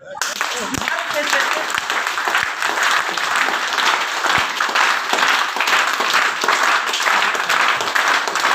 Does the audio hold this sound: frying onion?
no